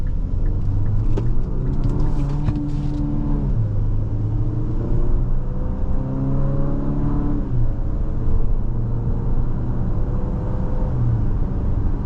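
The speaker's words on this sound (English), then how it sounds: "once you get up to speed, it cruises down the road nice and smooth" A 2027 Infiniti QX65 SUV with a four-cylinder turbo and nine-speed transmission hums and rumbles steadily while cruising, engine tone rising and shifting through gears in a low, continuous drone heard from inside the cabin.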